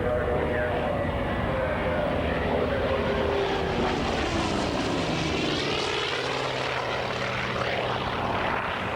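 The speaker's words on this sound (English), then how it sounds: "It is the world's fastest piston-powered airplane." The Grumman Bearcat racer Rare Bear, a record-setting piston-engine airplane, roars past at an airshow with a loud, continuous propeller and engine drone that shifts in pitch as it passes.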